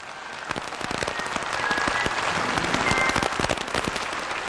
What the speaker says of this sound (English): After each prayer, of course, there is applause